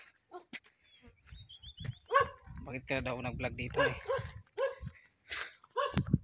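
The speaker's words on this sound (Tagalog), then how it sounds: "Galit na yung aso." An angry dog barks in sharp, repeated bursts with whimpering yips near a parked motorbike at a public market area in Caliongan, Dalaguete, Cebu, while a person talks over the commotion.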